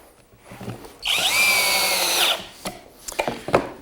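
A power drill drives a fine-thread pocket hole screw into hardwood, whirring loudly and steadily for about a second and a half, followed by close clicks and knocks as the workpiece is handled.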